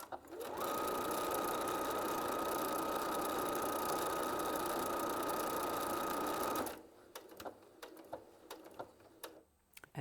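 Viking Onyx 30 sewing machine stitching fabric, a loud, steady motorized hum with a rapid needle rhythm running for several seconds, then cutting off into quieter handling clicks and taps.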